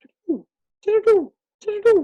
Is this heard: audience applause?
no